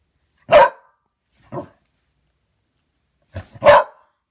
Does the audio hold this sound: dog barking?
yes